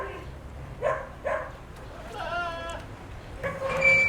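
Young Boer goats bleat close by in several short, wavering cries, with quieter background noise between the calls.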